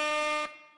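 A fanfare sound effect fired from a pad on a RODE RodeCaster Pro II: a bright, sustained brassy chord lasting about half a second, then cutting off into a short decay.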